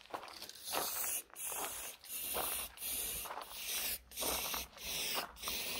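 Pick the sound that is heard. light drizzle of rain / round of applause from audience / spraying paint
spraying paint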